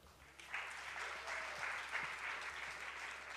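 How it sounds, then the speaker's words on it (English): Audience applause at a women's leadership awards ceremony, a sustained wash of many hands clapping that swells in quickly and holds steady, heard from a distance at low level. "A round of applause for Ms. Indra Nui, ladies and gentlemen."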